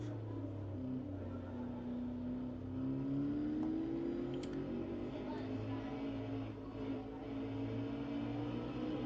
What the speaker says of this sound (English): and Charles shoves it down to second gear now.